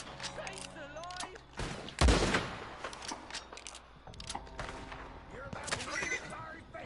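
Gunfire in an online Western shooter: a loud burst of shots around the two-second mark, then scattered fainter reports under game noise and voices.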